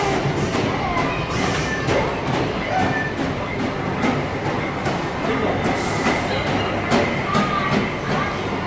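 A train passes close by with a loud, continuous rattle and rolling wheel noise that lasts the whole span, with rhythmic clatter and brief squeals. Voices can be heard faintly under it.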